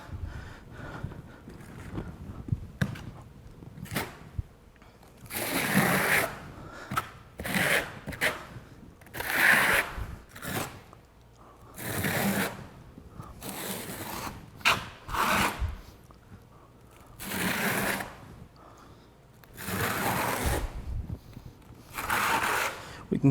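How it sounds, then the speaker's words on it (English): A ridged trowel combing mortar across a plywood underlayment, with repeated rasping scrapes in uneven strokes, close and fairly quiet, separated by short pauses. "now we can use the ridged side of our trowel"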